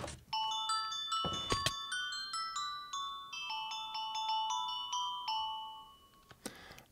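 Minecraft note blocks chime a bright, tinkling doorbell tune inside the game, a run of quick bell-like notes with a short burst at the end, clear and alone with no talking.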